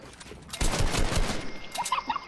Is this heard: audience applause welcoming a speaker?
no